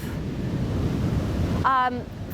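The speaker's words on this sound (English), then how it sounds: "As the waves come in and go out," Ocean surf rolls in on a California beach as a continuous broad wash of breaking waves and wind noise, with a short voiced sound briefly rising over it near the end.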